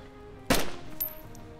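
A single sharp gunshot in the DayZ Standalone video game, a loud close crack with a short ringing tail and a fainter second report after it, no voices.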